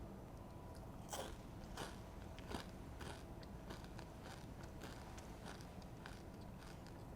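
Someone biting and chewing a small crunchy chocolatey snack, several sharp close crunches spaced through the clip over a quiet background.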